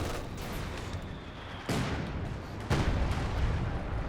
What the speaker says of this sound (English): Also, artillery coming in. I'm assuming that's Brit artillery.